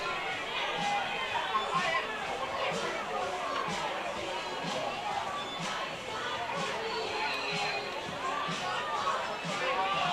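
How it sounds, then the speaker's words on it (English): A high school football game crowd with the student section in the stands produces a steady, fairly distant babble of cheering and chatter, with a commentator talking over it. "The crowd's trying to get into this football game here."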